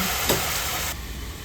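Finely chopped vegetables cooking in a pan over medium heat with salt and turmeric, a steady sizzle with a brief stir partway through, close and continuous without talk.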